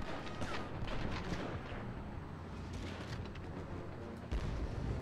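Grenade explosions and gunfire in a Medal of Honor video game, a dense, rumbling barrage of booms and cracks with a heavier blast near the end, loud and continuous.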